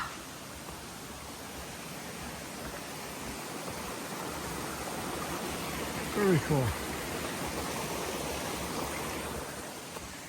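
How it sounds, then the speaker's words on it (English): A small stream flowing across a hiking trail makes a steady broadband rush of running water, fairly close, with a brief spoken comment partway through. "Little stream coming across here."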